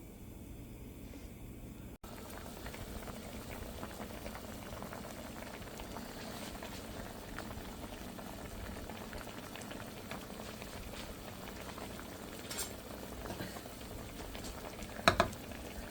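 A pot of pumpkin and hilsa fish curry broth boils steadily, with continuous bubbling and gurgling throughout, close and fairly loud, with a brief clatter near the end.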